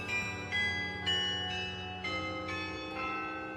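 Several large bells of the Netherlands Carillon in Arlington ring in overlapping, sustained tones, new strikes every half second or so, producing a rich, resonant carillon peal.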